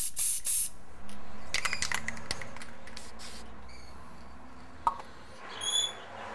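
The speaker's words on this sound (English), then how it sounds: "He must spray paint all his white guinea pigs brown" Spray paint hissing from an aerosol can onto white guinea pigs, several bursts of spray in the first few seconds, then quieter handling noises and a few faint high squeaks near the end.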